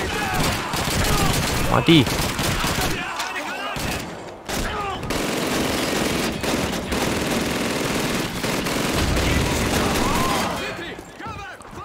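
Rapid bursts of automatic gunfire and shots fill a Call of Duty 2 battle on The Pipeline level, loud and dense with short gaps, while a player briefly speaks over it.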